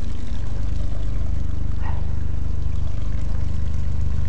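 A stream flows out at the far end of a forest beyond a tunnel, giving a steady, continuous rush of running water that stays even throughout with no voices.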